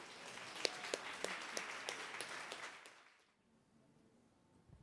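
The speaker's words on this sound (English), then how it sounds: "Please give this lovely woman a round of applause." Applause for a mother being honored at the PhenomeMOM awards, a crowd clapping steadily at moderate level for about three seconds before fading out into quiet room tone.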